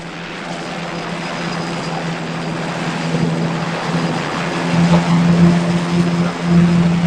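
A helicopter in flight in a horror sci-fi film, a steady droning engine with a low tonal hum that grows louder and throbs toward the end, heard alone without talk.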